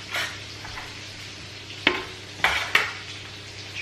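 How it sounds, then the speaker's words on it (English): Roasted vegetables straight from the oven are tipped off a chopping board into a blender. A few soft scrapes lead into three sharp, close clunks in quick succession. "chuck it all in this blender, whirly gig thing, whatever it is."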